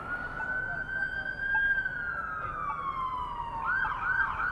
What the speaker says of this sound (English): this little ambulance, as usual.